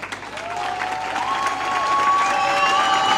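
Warm audience applause greets the town crier at the Telde carnival proclamation, a dense crowd clapping that swells steadily and stays loud throughout, with a few high whistles ringing over it.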